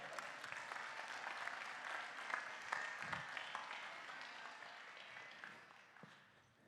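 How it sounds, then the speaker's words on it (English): An audience at a live business event claps for a person called to the stage, a steady, dense patter of applause that rises and then slowly fades, with no talk over it. "Clap it up for Michael, everybody"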